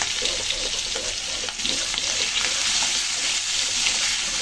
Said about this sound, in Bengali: পেঁয়াজ রসুনের সাথে কচুগুলো সুন্দর করে কিন্তু নেড়ে ফেড়ে ভেজে নিলাম।